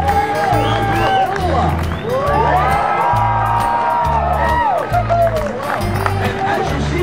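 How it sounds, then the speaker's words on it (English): Crowd cheering and whooping with scattered applause at an outdoor tree cutting ceremony, loud and continuous, with voices shouting over a heavy repeating rhythmic music beat. "Give a round of applause."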